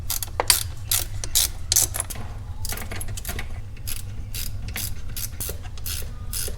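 Ratchet driving four Torx screws into a vehicle's front wheel bezel, a steady run of close, loud clicking bursts over a low background hum, with no talking.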